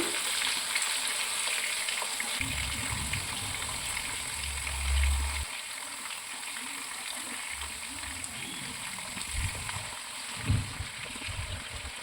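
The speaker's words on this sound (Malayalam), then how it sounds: "അടുത്ത സൈഡും കൂടെ ഒന്ന് ഷാലോ ഫ്രൈ ആവട്ടെ" Fish shallow frying in oil in a pan makes a constant crackling sizzle throughout, joined by a few low bumps and thuds of handling in the pan.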